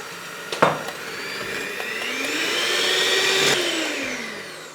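Electric mixer whisking egg whites and sugar for a limoncello tiramisu, a loud, continuous whirring drone that rises and falls in pitch as the speed shifts, with a sharp knock near the start and no talk.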